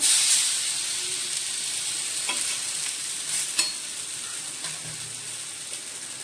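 A semolina (rava) snack frying in a pan, a steady loud crackling sizzle that starts strongest and settles, with a few faint scrapes and taps as it is turned, no speech.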